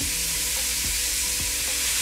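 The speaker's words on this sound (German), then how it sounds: "So, dann lasse ich leicht anbraten und dann kommt Tomate dazu." Minced pork and beef fry in a pan for a lasagne, giving a loud, continuous close-up sizzle with a few soft stirring scrapes and no talking.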